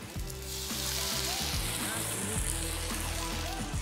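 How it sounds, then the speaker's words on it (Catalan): Stock poured into a hot pan holding peas, asparagus, salt cod and eel, bursting into a loud, broad sizzle that holds steady for several seconds, with faint talk at the start. "Tirem el caldo."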